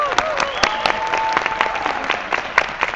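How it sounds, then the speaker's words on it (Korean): Audience applause welcoming a speaker to the stage at a university lecture, steady dense clapping from a nearby crowd with a faint tone running beneath it. "우리 하나의 박수로 맞이해보도록 하겠습니다"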